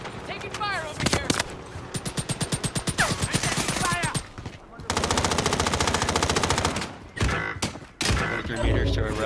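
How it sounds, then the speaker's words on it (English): Rapid automatic gunfire bursts in a Warzone firefight, loud and close, with several separate volleys and short pauses, plus a few single heavy shots; players talk over the shooting. "Taking fire over here."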